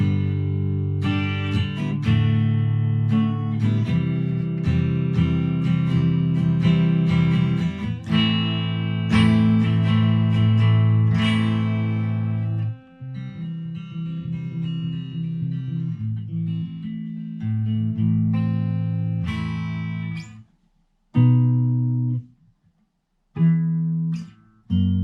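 A PRS Zach Myers SE electric guitar on its neck pickup plays a continuous run of notes and chords, close and unaccompanied. The playing breaks near the end into a few separate stabs with brief silences between them.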